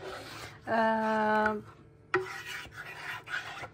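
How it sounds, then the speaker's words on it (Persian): A Danish pastry filling mixture is stirred slowly as it thickens, with close rasping scrapes of the utensil, a brief squeaky tone in the middle and further rubbing strokes, no talk. "حالا ما باید اینو آروم آروم هم بزنیم، انقدر باید ما هم بزنیم تا حالت یه مقدار سفت پیدا کنه."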